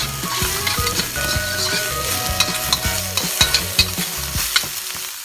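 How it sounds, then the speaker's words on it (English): Chopped onions are stirred and fried in a hot pan just after eggs come out, for simple fried rice, with a loud sizzle and repeated rhythmic clacks of a utensil against the pan, no voices. "we're going to be adding now the chopped onions, and we're going to stir those all up"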